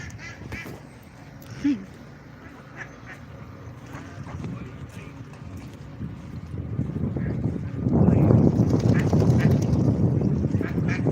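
Ducks quack now and then across an outdoor duck pond, the calls fairly close, while a broad rushing, rustling noise swells and grows louder toward the end.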